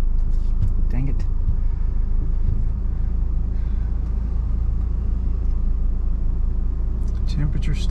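A 1997 Eagle Talon TSi running and driving gives a steady, close engine and road drone that holds throughout, with a few faint higher sounds near the start and end.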